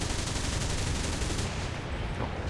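A Soviet SPAA anti-aircraft vehicle fires in the video game War Thunder, a dense, rapid, continuous rattle of shots, loud and steady, easing slightly near the end, with no talk.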